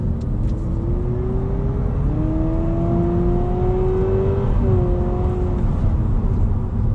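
Honda Civic engine droning steadily while driving, with a rising and shifting tone as it revs between gears, loud and continuous over road and wind noise, no talk.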